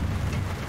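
Rain falls in the video game Brink of Consciousness, a steady dense hiss with a low rumble, brief and continuous with no talking.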